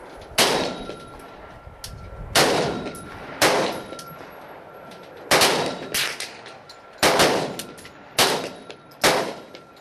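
Gunshots at an outdoor shooting range: seven sharp, loud reports spaced one to two seconds apart, each with a ringing metallic tail, close to the microphone and with no talking between shots.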